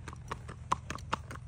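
A 10-year-old Missouri Fox Trotter gelding, about 15 hands, moves at a gaited pace, its hooves clip-clopping in a quick, even rhythm with several distinct close hoof strikes.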